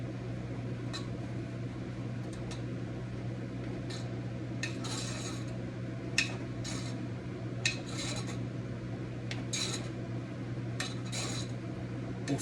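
Utensil clinking against a dish while vegetables are mixed with soy sauce in a home kitchen: light, irregular metallic taps and scrapes over a steady background hum, with no talking.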